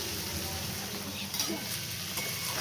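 Potato curry fries in a pan as it is stirred, a quiet continuous sizzle with a few soft scraping and clinking touches.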